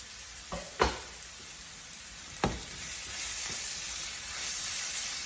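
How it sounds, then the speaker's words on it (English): Onions and garlic frying in a pan give a steady close sizzle and hiss, opened by a few sharp knocks and scrapes of a utensil against the pan before the frying settles into an even hiss. "After cooking your onions for about 3-4 minutes, you're gonna add the garlic"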